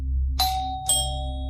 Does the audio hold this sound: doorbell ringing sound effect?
yes